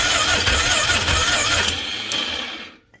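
A Polaris Magnum 330 ATV engine cranks slowly and weakly on a failing battery, a close, loud mechanical churning that sags and dies away toward the end.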